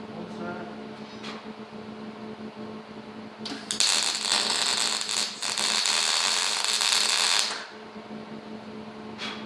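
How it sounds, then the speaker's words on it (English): Welding joins scrap metal for a gothic candlestick, and the powder coating burns off as it goes: a loud, crackling, sizzling arc runs for about four seconds over a steady background hum, then cuts off. "That's the powder coating burning off."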